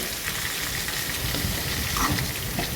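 Chopped raw plantain sizzles and crackles in hot oil in a pan while being stirred, a steady close frying hiss with small scraping sounds, no talk.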